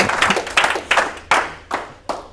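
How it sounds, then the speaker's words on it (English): Audience at a Kubernetes conference lightning talk clapping in a short, evenly spaced run of sharp claps that ring out loud and close, with no voices. "Clap."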